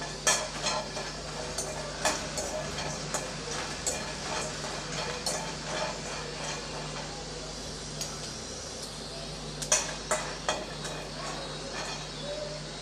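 Peanuts and unpeeled garlic cloves being roasted in a pan, a quiet dry sizzle under a low steady hum, broken by regular light scrapes and clinks of stirring, no talking.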